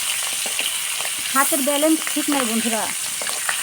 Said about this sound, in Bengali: ইলিশ মাছটা কিন্তু বেশি ভাজা হয় না, হালকা ভাজতে হয়।